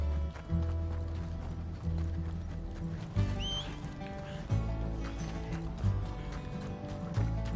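Horse hooves clip-clop in a steady galloping rhythm in a video game, with a brief whinny partway through, over a layer of game music and sound effects.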